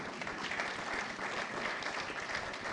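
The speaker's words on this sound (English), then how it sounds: "But, please, a round of applause." A book launch audience applauds a longtime deputy foreign affairs minister, the clapping dense and even throughout the brief stretch, filling the room at a moderate distance.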